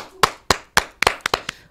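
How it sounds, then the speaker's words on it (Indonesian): Several separate, sharp hand claps ring out in an uneven rhythm during a chat show about Lampung food reviewing, with the claps sounding close and sparse, like only a few people clapping. "Tepuk tangan yang paling meriah buat Ale"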